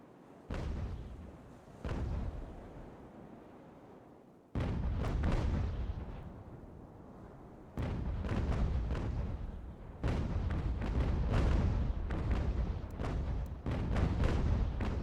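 Naval cannon broadsides from sailing warships in the game Ultimate General American Revolution, heavy booming volleys in several separate bursts, each a cluster of overlapping shots with rumbling decay, loud and close.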